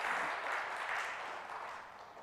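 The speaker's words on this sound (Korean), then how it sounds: "박수 서로" A church congregation in Incheon applauds one another, giving a soft, even wash of clapping that fades slightly over two seconds.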